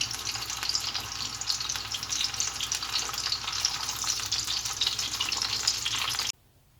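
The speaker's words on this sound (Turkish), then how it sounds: "Kabaklarımızın her tarafını güzelce kızartıyoruz." Zucchini fries in oil, sizzling and crackling steadily at close range, a dense frying hiss that runs on without a break and then cuts off abruptly.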